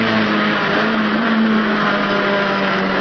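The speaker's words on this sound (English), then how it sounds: "accelerating out of the turn. Third gear, back in the fourth gear, in for the left-hander." A Datsun B sedan race car engine roars loud and continuous at high revs, its pitch climbing under acceleration with a steady in-car drone, no talk over it.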